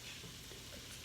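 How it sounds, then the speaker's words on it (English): Vegetables sauté in a soup pot for keto cabbage roll soup, giving a soft, steady sizzle and crackle close by, quiet and uninterrupted, with no talking. "I'm gonna go ahead and start adding some of the spices"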